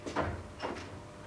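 A door opens after a knock in a home setting in a Turkish television series, heard as a brief, faint clunk and soft creak in two quick bursts against a quiet room.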